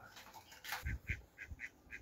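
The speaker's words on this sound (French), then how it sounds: "maintenant, on va aller voir quand même les canards" Farmyard ducks on a small breeding farm quacking in short repeated calls, several distinct honks in quick succession, fairly faint and close.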